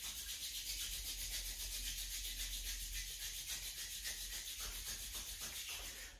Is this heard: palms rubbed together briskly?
yes